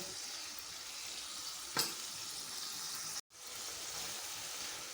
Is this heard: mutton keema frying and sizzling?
yes